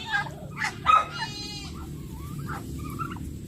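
A goat bleats with a wavering, drawn-out cry among a few other short animal calls over a low background hum.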